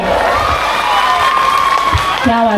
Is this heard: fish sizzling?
no